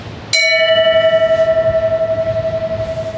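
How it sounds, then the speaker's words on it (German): An old ship's bell, mounted in a custom-built frame, is struck once and rings loudly and clearly, its bright metallic tone sustaining and slowly decaying over several seconds. "Unsere Schiffsglocke ist auch so richtig alt"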